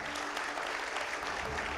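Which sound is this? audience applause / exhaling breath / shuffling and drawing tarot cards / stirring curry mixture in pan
audience applause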